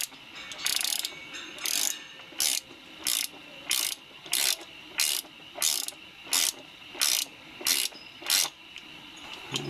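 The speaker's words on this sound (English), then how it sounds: "you are going to need a 17mm spanner on the other end" A ratchet spanner turning a bolt during motorcycle crash bar installation, heard as a steady series of about a dozen crisp metallic clicking bursts at even intervals, close and clear with no talk.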